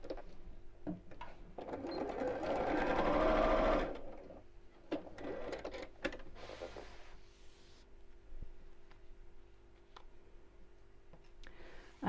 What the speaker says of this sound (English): we're going to sew around the bottom three sides